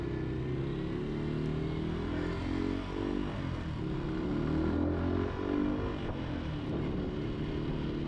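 A motorcycle rides through traffic on southern roads, its engine droning steadily with shifting pitch as it accelerates and eases off, loud and close against a continuous wind-and-road rumble.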